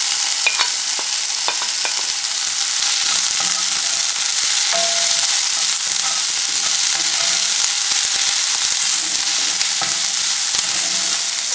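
Onion, pepper, garlic and ginger fry in a pan for a Guyanese cassareep chicken dish, giving a steady close sizzle broken by frequent stirring clicks and scrapes, with no talking.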